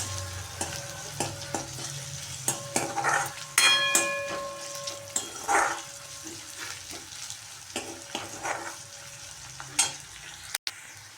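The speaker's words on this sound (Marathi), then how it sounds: "कांदा लसूण आणि कढीपत्ता छान तळला आहे" Onion, garlic and curry leaves fry in a pan for a bean-pod vegetable dish, a soft sizzle under repeated sharp clinks and scrapes of a spoon stirring against the pan, close by, with no talk.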